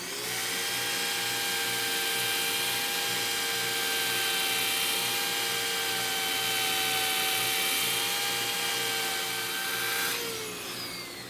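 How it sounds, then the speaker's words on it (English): A power sander working the inside of an ash wood bowl whines steadily at a high pitch with a constant motor drone, running for about ten seconds before winding down. "Now on the inside of the bowl, I am going to start with power sanding."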